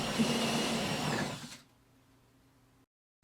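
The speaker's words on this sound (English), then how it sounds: "choosing whatever drill bit you think will do the cleanest job and be as close to the right size as possible" A power drill bores a half-inch oarlock hole in a wooden boat gunwale, a steady high whine for about a second and a half that cuts off abruptly, leaving a low hum before silence.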